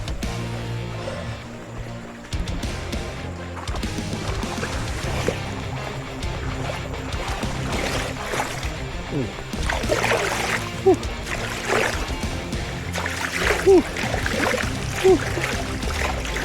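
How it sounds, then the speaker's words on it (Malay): Footsteps splash through a shallow river crossing on a 30 km rainforest trail in Merapoh, with uneven sloshes and water trickling around the walkers while people talk intermittently nearby. "Sungai."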